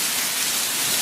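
Steady rain during a thunderstorm, heard from under a carport, a dense even hiss of falling water with no breaks and no voices.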